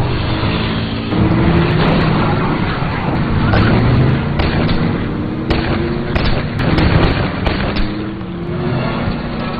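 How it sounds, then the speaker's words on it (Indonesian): Gunfire in an action film shootout: a dense run of sharp shots and heavy booms over a loud, sustained soundtrack, with hits scattered throughout. "Roland yang baru sadar akan rencana tersebut, ia pun sempat baku tembak dengan beberapa anak buah Sobur"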